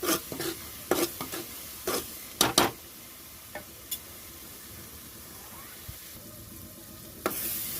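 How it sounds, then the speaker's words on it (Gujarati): Masala for a drumstick curry cooks in a pan, giving a soft steady sizzle broken by sharp spoon scrapes and clinks against the metal, clustered early and then sparse; nobody speaks. "હવે મસાલાને સારી રીતે પાકવા મૂકશું"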